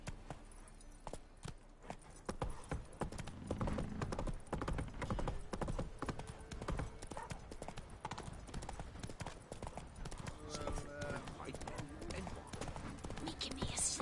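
Roach the horse gallops in The Witcher 3, hooves clip-clopping in a fast, steady rhythm up close and mixed with game sound throughout.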